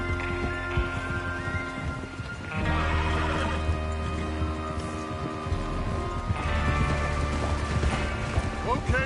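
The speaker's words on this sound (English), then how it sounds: "Get your horses ready." Horses whinny and snort amid clip-clopping hooves and mechanical clatter in the Red Dead Redemption 2 video game, steady and fairly close under a continuous busy backdrop.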